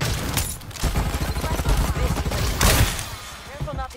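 Rapid gunfire from a Farlight 84 battle royale match, a dense string of shots ringing out steadily through most of the clip at close range, with a louder burst near the end.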